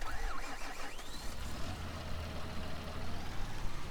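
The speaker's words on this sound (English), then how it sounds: "This is a nice tractor." Continuous rumbling tractor engine from Farming Simulator 19, running steadily at a constant level with some tonal whine sweeping above the low drone.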